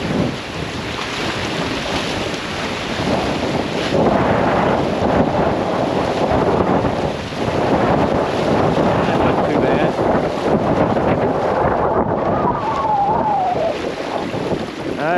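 A boat runs fast through Arkansas River rapids, a continuous roar of rushing water and engine with heavy wind buffeting the microphone throughout, loud and close.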